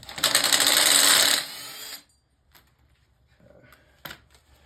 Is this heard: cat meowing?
no